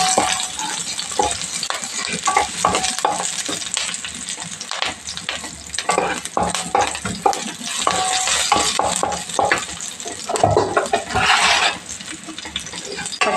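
Mustard oil sizzles and crackles steadily in a hot pan, with occasional stirring scrapes and clinks, loud and close throughout.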